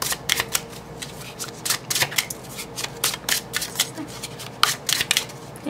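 Tarot cards are shuffled close up in rapid repeated bursts, crisp riffling and flapping strokes coming in quick uneven rhythm with no talking over them.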